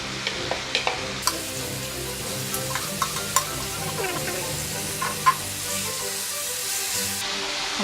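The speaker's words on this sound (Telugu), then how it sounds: "ఇప్పుడు ఈ పచ్చడిని అంతా పోపులో వేసుకొని" Gongura (sorrel leaf) chutney frying in a hot seasoning tempering, village-style Guntur preparation, with a steady sizzle and scattered sharp clicks and scrapes of a spoon stirring throughout, moderately close.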